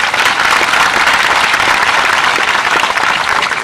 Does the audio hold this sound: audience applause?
yes